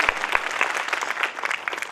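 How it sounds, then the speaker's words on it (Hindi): Audience claps at an inauguration ceremony of a Brahma Kumaris center in Nangloi, Delhi, a dense burst of applause with quick uneven claps, steady and fairly close, fading slightly toward the end. "एक बार पुनः हम दिल्ली वाली, नांगलोई वाली ताली बजा करके दीदी जी का धन्यवाद करते हैं"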